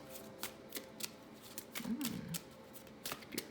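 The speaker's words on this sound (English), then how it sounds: "I'm going to shuffle 3 times and take the top" Tarot cards riffle and snap in quick repeated bursts, close and crisp, with a soft low murmur in the background.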